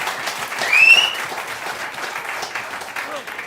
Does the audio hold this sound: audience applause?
yes